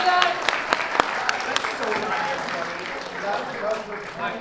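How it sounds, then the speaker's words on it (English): Audience applause from a crowd at the Conquest 2023 English voice actors panel, steady clapping with cheering voices mixed in and a few sharper claps standing out over several seconds. "A round of applause for all of them, everybody!"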